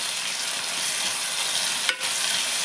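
Vegetables with chopped tomato and peanuts fry in a pan for veg pulao, a steady close sizzle with one brief stir scrape near the end.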